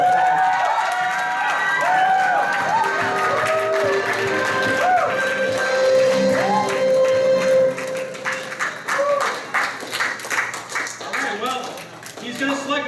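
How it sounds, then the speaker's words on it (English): Audience at an anime convention game-show panel applauding and cheering, a dense crowd roar with scattered claps and whoops over the first eight seconds, then thinning to sporadic clapping and voices. "Hey, let's give her a round of applause."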